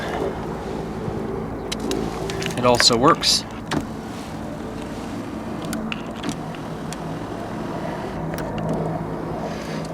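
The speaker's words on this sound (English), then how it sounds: "The car has power seats." The power seat motor in a 1984 Mercury Grand Marquis whirs briefly in a short mechanical burst inside the car, with background rustles and someone speaking briefly.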